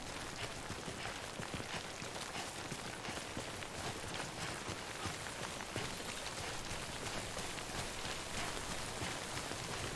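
Steady rain falling in the video game Death Stranding, a dense, even hiss of drops on surfaces that fills the whole stretch without letting up, with no voices over it.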